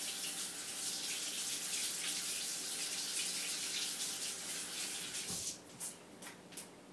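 Tap water runs steadily as something is rinsed off under it, a continuous close hiss that breaks into a few splashy bursts near the end.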